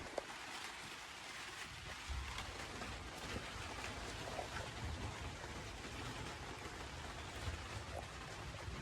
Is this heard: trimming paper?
no